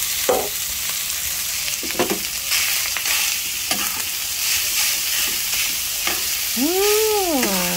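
Leftover rice is stir-fried in a hot pan for Filipino sinangag, with a steady sizzle broken by scraping stirs, and a brief cat-like meow close to the end.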